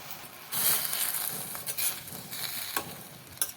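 Vegetables sizzle and sauté with a small piece of tamarind in a pan, a steady moderate frying hiss broken by occasional stirring clicks and scrapes.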